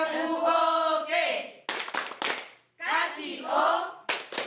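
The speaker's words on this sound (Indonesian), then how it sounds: "Ice breakingnya adalah tepuk oke." A classroom group stands for an ice-breaking clapping game, bursts of rapid hand claps alternating with chanted group voices, close and lively.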